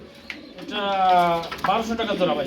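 Racer pigeons coo softly nearby, a few rolling calls mixed with someone talking in a pigeon sale setting.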